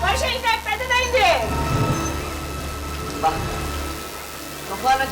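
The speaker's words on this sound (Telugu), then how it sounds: "చూడు వర్షం ఇంకా పెద్దదైంది." Heavy monsoon rain pouring steadily during a storm, a dense continuous wash of falling water close by, with voices and other sounds breaking in at moments over the constant downpour.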